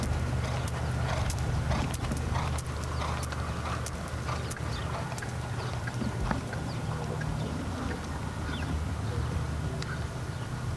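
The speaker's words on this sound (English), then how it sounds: "It's a very slow canter." A horse moves at a very slow canter during a riding lesson. Its hooves give a steady series of soft clip-clops over a low background hum.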